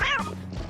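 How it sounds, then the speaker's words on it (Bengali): A cat gives a single short meow, close and clear, lasting under a second with no voices. "কি মিষ্টি একটা বিড়াল"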